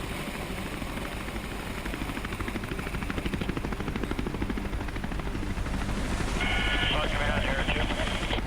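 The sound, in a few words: helicopter lifting off out of a canyon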